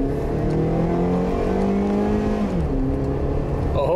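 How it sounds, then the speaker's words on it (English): A Honda engine revs hard and climbs steadily in pitch until its VTEC system engages, when the tone shifts and the note jumps into a sharper, harsher register, loud and close throughout. "I'm gonna see if I can hold the camera and make this VTEC kick in"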